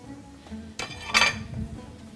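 A utensil stirs shrimp rice in a metal cooking pot, giving a couple of sharp clinks and scrapes against the pot over a quiet kitchen background, with no talking.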